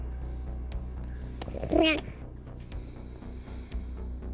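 A cat meows once, a short clear rising-and-falling call, in a VRChat roleplay scene, set against a low steady background hum with faint scattered clicks and no talk.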